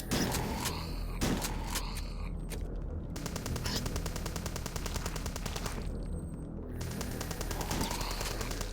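Dual pistols in the retro shooter Hrot fire loud, fast shots in a dense, continuous stream under a droning game soundtrack, with a couple of brief breaks where reload clicks and clacks come through.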